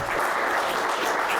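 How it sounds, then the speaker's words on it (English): Audience applause for a speaker at a talk, a dense steady clapping from a crowd filling the whole moment without any voices. "So please give her a warm round of applause."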